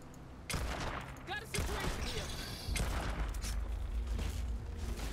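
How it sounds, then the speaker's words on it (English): Gunfire crackles in a Starfield firefight, several rapid bursts and single shots spread across the scene under game ambience and voices talking. "Alright, so we hear gunfire."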